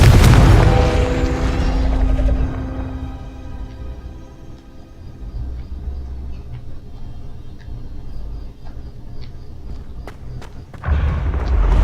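A fiery Confringo spell explodes in the wizarding game Hogwarts Legacy, a loud booming burst whose rumble rings and slowly fades, followed by a second heavy thump near the end.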